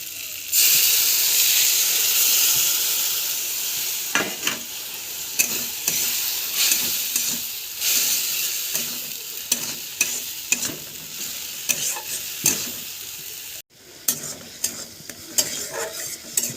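Chili and turmeric spice paste hisses loudly as it hits a hot wok, then sizzles continuously while a spatula scrapes and stirs in irregular strokes, close up with no voices.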